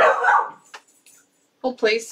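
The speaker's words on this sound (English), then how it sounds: "I apologize for the dog barks in the background." A dog barks in the background of a home crafting and baking livestream, a few short barks interleaved with a person speaking nearby.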